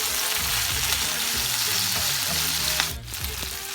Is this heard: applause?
no